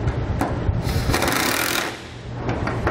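Nylon lock nuts with flat washers are snugged down on a D-ring tie-down anchor, giving a loud continuous mechanical whirring and grinding close by.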